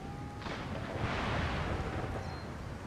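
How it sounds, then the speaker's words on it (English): Cannon fire in the strategy game Empire: Total War rolls in as a broad, booming rumble that swells and lingers over a couple of seconds with a faint whistling tone above it. "There go their first cannon shots."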